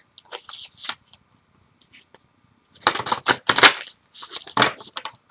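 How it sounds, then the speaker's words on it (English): Tarot cards are shuffled by hand in bursts of crisp riffling and flicking, sparse at first and then a denser flurry of close, sharp rustles with gaps between. "So, let me keep shuffling, you guys."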